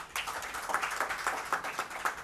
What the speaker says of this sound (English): This round of applause which you gave